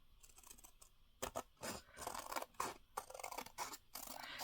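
Scissors snipping through paper while cutting out a journal card, producing a series of close, crisp cuts with short pauses between strokes and no talking.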